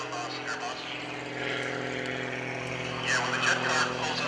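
A propeller aerobatic airplane maneuvering at the 2013 Greenwood Lake Airshow gives a steady droning engine hum, heard from a distance, that swells louder near the end as it climbs.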